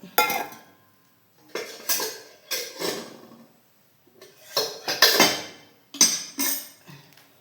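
A utensil stirs halwa mixture with milk in a pan, making a series of close metallic scrapes and clinks in separate bursts with short quiet gaps between strokes.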